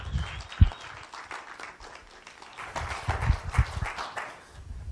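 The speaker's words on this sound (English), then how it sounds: "Let's get a round of applause." Scattered, moderate clapping from a seminar audience welcoming a marketing speaker, uneven and fairly close with a few sharp loud claps, thinning out toward the end.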